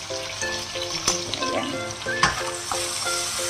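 Fish frying in oil, a continuous crackling sizzle with a faint repeating rhythmic hum and occasional sharp pops, heard alone with no talk.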